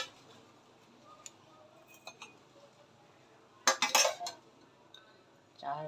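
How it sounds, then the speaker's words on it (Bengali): Tea is strained into two cups, with soft metallic clinks and then a short, brighter burst of cup and strainer chinks, fairly close in a quiet room. "দুটো কাপে চাটা ছেঁকে নেব।"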